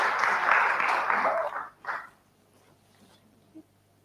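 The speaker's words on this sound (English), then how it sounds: "Let's clap for Enoch as he exits the stage." Audience applause at a youth agriculture innovation pitch event, a dense burst of clapping that fades out after about a second and a half, with a short swell and scattered faint claps afterward.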